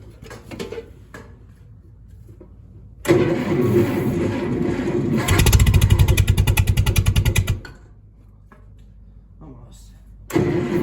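Massey Ferguson tractor in an open-doored shed cranking over and catching, a loud low rhythmic engine chatter surging for a few seconds after quieter fiddling sounds, then dropping away before another crank at the end.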